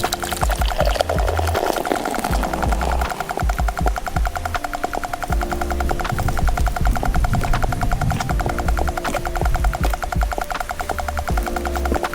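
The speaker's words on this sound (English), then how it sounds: "That's what I call an aggressive pour" Beer poured aggressively alongside a meal of salt and vinegar crisps, a loud continuous splashing, fizzing pour running steadily for about twelve seconds at close range, with no talk.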